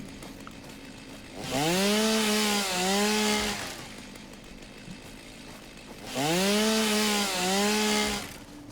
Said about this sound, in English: So I gotta put the chainsaw on the other hand.